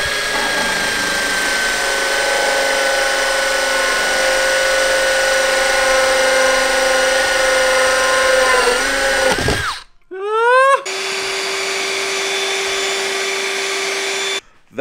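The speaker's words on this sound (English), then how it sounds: "I'm gonna go ahead and hit it with a tiny drill bit" A high-pitched electric drill with a tiny bit whines steadily and close on a Toyota Supra, briefly cuts out and spins back up in rising sweeps, then settles into a steady whine again.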